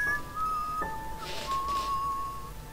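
A character in the game Enderal whistles a short tune of clear, sustained notes with a brief pause in the middle, close and fairly loud, while a soft breathy sound rises partway through.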